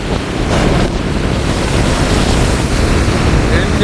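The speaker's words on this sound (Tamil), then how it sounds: "இப்போ அடிக்கும் பாருங்க பெரிய அலையுண்டா" Large storm waves pound the sea at Point Pedro in a continuous loud roar of surf, heavily mixed with wind buffeting the microphone.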